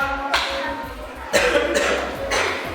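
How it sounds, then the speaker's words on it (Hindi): Children in a primary school classroom (classes 3–5) clap for a classmate in a few short bursts of applause, each fading after about a second, with brief gaps between them. "शाबाश, ताली बजा दीजिए इसके लिए"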